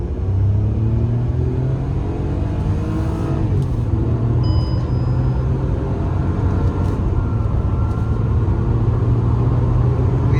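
A Hyundai i20 N-Line on regular petrol in sports mode with the AC on hums with a steady, loud low engine drone and road rumble from inside the cabin, continuous throughout with no talking.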